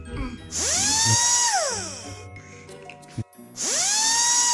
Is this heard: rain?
no